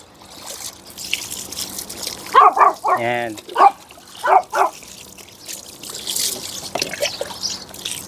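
Shower water runs over dogs being bathed at home on a hot morning, a soft hiss of spray under someone talking, with occasional dog sounds mixed in.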